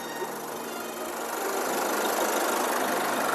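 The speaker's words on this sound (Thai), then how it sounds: "เราฟังเสียงเครื่องกันไปแล้วเนาะเดี๋ยวเจ๊น้อยปิด ขออนุญาตปิดเสียงเครื่องก่อน" A 2017 Isuzu D-Max Hi-Lander Cab 1.9 pickup engine idling close by with a steady even rumble and a slight rise in level toward the end.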